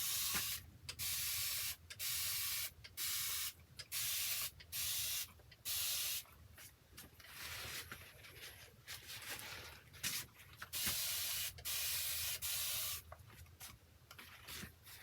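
Repeated bursts of a spray bottle misting an acrylic painting, about a dozen short hissing sprays in an uneven rhythm with brief quiet gaps, close by and fairly loud.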